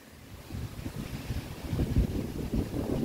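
Steady outdoor wind buffets the microphone with low rumbling gusts that swell and thump, no voices, constant and close.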